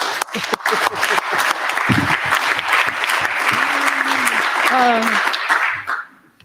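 An audience at a fintech summit plenary session applauds a speaker coming up, a loud burst of clapping that swells and then fades out, with a few voices and a brief whoop over it.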